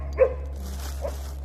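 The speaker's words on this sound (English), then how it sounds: "I apologize for the dogs again." A dog gives a single sharp bark close by, followed about a second later by a softer yelp, both over a low steady hum indoors while excited dogs play outside.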